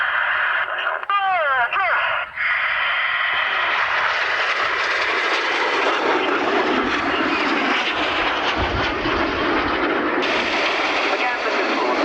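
Display aircraft in formation climb steeply under a low cloud base at the Ulster Airshow in Newtownards, their engines a loud, sustained roar that builds and broadens over twelve seconds, with a brief faint voice early on.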